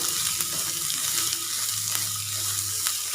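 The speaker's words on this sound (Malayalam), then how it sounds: "സവാളയും കൂടി ചേർത്ത് കൊടുത്തതിന് ശേഷം നന്നായിട്ട് ഇളക്കി കൊടുക്കാം" Finely chopped onion frying with okra for vendakka thoran, a dense continuous sizzle close up with faint stirring scrapes underneath, steady throughout.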